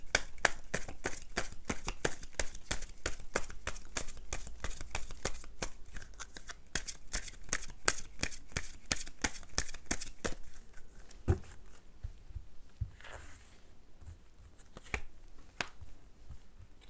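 Tarot cards riffled and shuffled in a rapid, crisp flurry of close, quiet flicks and slaps, then slower scattered taps and slides as cards are drawn, with no voice over them.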